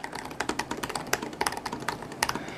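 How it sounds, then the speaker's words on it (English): Typing on a 2016 MacBook Pro keyboard, a quick irregular run of crisp, close key taps at moderate volume with no talking. "So I wanted to type on this keyboard,"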